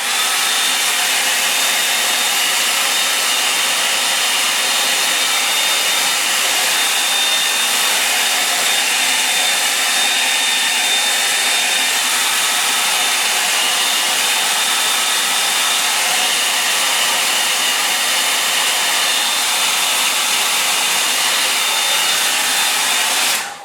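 A hair dryer dries the edges of a fresh acrylic painting, blowing a steady, loud, close whoosh with an even whine that runs unbroken for the whole stretch with no talk.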